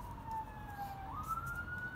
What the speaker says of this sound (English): I don't know if that's an ambulance or a fire truck, but, or a police, I'm not sure.